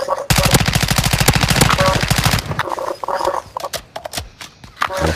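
Suppressive automatic gunfire in Call of Duty Modern Warfare, a loud rapid burst of evenly spaced shots for about two seconds, followed by scattered softer shots and game sounds under faint talk.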